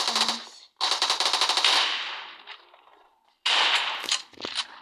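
Video game gunfire rattles out in rapid automatic bursts, loud and close, with a short gap between volleys and a final burst after a pause.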